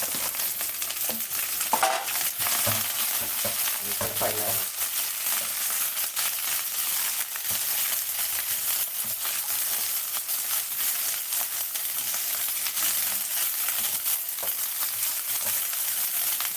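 Water spinach (morning glory) stir-frying in a hot pan, with a constant loud sizzle and occasional scraping of the spatula as the greens are tossed.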